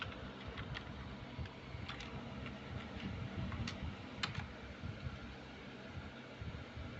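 Computer keyboard typing, sparse light clicks and taps scattered over a quiet room hum, close and fairly faint, with irregular spacing between keystrokes.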